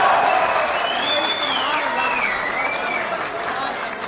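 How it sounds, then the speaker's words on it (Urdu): Audience applause fills a crowded hall at a 2019 Urdu poetry mushaira at UCP, a steady broadband clatter sustained throughout while a voice speaks over it. "آپ کے لیے بہت سی تالیاں یار"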